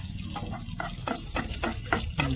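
Onions sizzling and frying in oil for a koi fish fry, a steady crackle with soft rhythmic stirring strokes scraping through the pan, close and fairly quiet.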